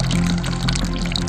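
River water near the village of Khanpur in Sagar babbles and rushes in a dense, continuous wash, close and fairly loud, with no other sounds standing out.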